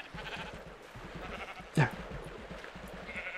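Pink sheep in a farming video game bleat in short repeated calls, with one louder, sharper cry near the middle over a soft background, and a voice briefly speaks once.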